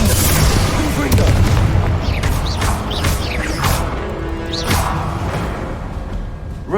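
Confringo fire spell blasting in the Hogwarts Legacy video game, a run of loud booming explosive impacts with whooshes over dense continuous game noise.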